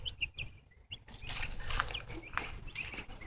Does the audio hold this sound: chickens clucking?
yes